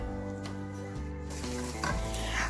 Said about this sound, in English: I first fry my onions until they are just a little bit golden brown.